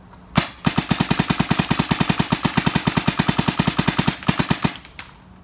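A DYE DSR paintball marker fires a rapid burst of roughly forty sharp, evenly spaced shots, loud and close, followed by one lone shot after a brief gap.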